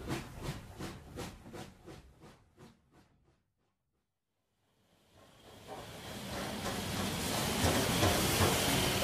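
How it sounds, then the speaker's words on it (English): A steam train chuffs in steady rhythmic puffs that fade out, then a loud hissing rush of steam and rolling rumble builds and holds. "The train puffs along."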